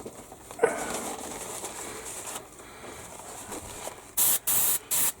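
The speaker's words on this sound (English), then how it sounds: "We can run a little airbrush cleaner through it to make sure it's all clean and ready to go." A hobby airbrush used for priming plastic model kit parts sprays cleaner through itself: three short, loud, close bursts of bright hissing air near the end, after quieter room noise and faint handling sounds.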